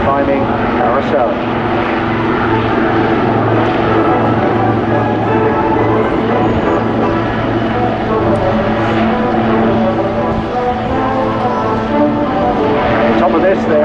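Display helicopters flying close formation manoeuvres at the Bournemouth Air Festival, a loud continuous rotor and engine drone with rhythmic blade chop, heard under a commentator talking over a public address.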